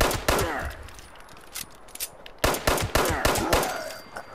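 Rapid gunfire cracks in the video game Fallout 76, sharp loud shots in quick clusters with short pauses between bursts.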